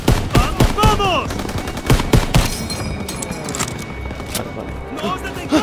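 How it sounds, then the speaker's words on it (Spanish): Machine gun fire in the Call of Duty WW2 campaign mission Operation Cobra, with loud, rapid overlapping bursts and booming shots. Soldiers' voices shout over the shooting. "¡Las ametralladoras nos destrozan!"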